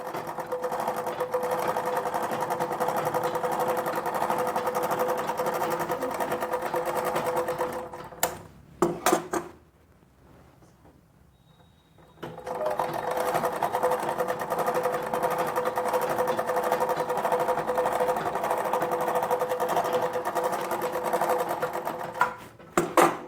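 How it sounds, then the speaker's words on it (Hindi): An overlock machine interlocks the pocket seam of a velvet dress in loud, fast, steady runs close by, pausing briefly in the middle before starting again and stopping near the end. "इंटरलॉक कर लिया मैंने।"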